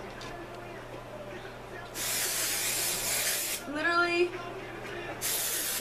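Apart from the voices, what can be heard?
spraying dry shampoo onto hair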